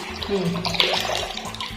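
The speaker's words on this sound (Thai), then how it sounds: "น้ำไหลลงช้ามากนะคะท่อตัน" Water runs and trickles in a bathroom washbasin with a clogged drain, a close, continuous gurgling flow that sits slowly in the sink rather than draining away.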